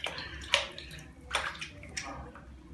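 Water sloshes in a bucket used as a bathtub, with three distinct splashy surges and softer gurgling between them, heard close and fairly quiet.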